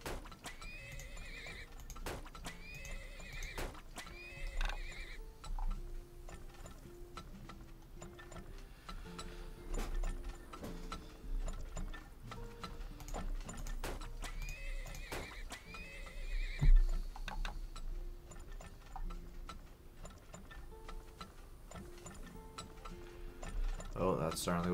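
Horses in the video game Turmoil whinny repeatedly over steady clip-clopping hooves and a ticking game soundtrack, with the neighs recurring every few seconds at moderate loudness.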